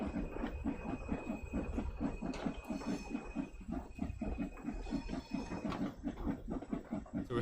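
A locomotive in the Train Sim World 3 game labouring up a steep grade, with quiet, rapid, evenly spaced chuffing pulses and a faint high whine over a low rumble.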